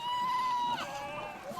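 A female seal calls to her pup on a beach, a single drawn-out tonal bleating cry that wavers and bends in pitch, fairly close and clear.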